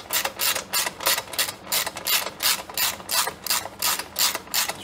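A ratchet wrench tightens bolts on a Pulsar PG6580E generator during a propane and natural gas conversion, rapid clicking bursts repeating in a steady back-and-forth rhythm, close and loud with no talk.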